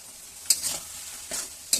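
Fish curry with ground spice paste, cauliflower and potato is stirred in a frying pan: soft sizzling under three scraping spatula strokes spaced about a second apart, close and clear, no voices.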